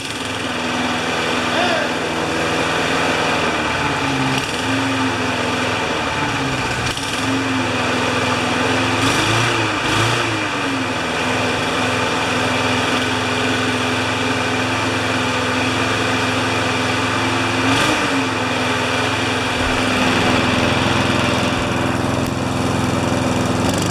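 A Murray 20-inch self-propelled lawn mower engine runs steadily at close range, a loud continuous droning hum with slight waver in pitch and no pauses.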